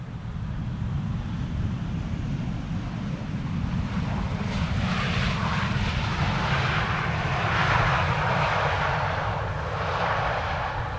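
Airliner PH-HSA, a 15-year-old jet, arrives at Amsterdam Schiphol Airport, its engine roar a steady broadband rumble that swells gently as it passes, with wind noise throughout.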